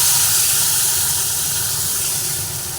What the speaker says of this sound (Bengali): তিলটা তেলের মধ্যে দিয়ে সুন্দরভাবে একটু নাড়াচাড়া করে নিচ্ছি